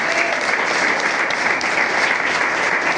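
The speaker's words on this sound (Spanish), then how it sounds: "Denle un fuerte aplauso al Señor por esto." Steady applause from a church congregation during a Spanish-language sermon, dense, loud, and even throughout with no talking over it.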